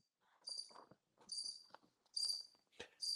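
Crickets chirp as a sound effect, trilling in four or five separate bursts that are distinct and fairly close, with faint rustles between them and no talk.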